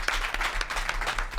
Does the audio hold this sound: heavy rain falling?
no